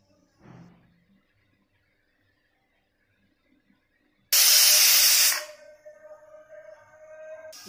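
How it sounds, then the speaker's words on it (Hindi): A pressure cooker on a gas stove, cooking potato and soybean curry, lets out one loud, sustained steam whistle lasting about a second, then quieter hissing with a faint ringing tone afterwards; there is no talking. "इसमें 3 सीटी आ रही है दोस्तों।"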